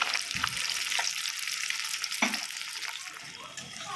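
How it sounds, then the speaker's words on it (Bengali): Fish frying until crisp in hot oil in a home kitchen, giving a continuous bright sizzle with a few sharper pops and crackles, close and moderately quiet. "সেই জন্য মাছটাকে আগে ভালো করে ফ্রাই করে নিচ্ছি"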